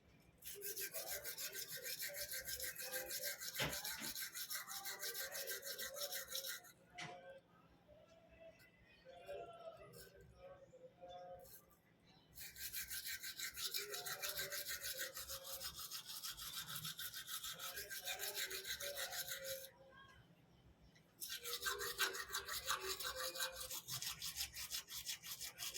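Someone brushes their teeth with a toothbrush in long stretches of steady, close, rhythmic scrubbing, broken by pauses where someone talks.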